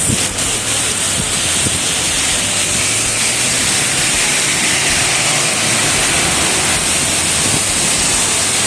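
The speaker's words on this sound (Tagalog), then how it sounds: "Malakas ng ulan na to, malakas." Loud, continuous roar of a heavy downpour on a flooding street, a broad unbroken wash of rushing water that stays constant throughout.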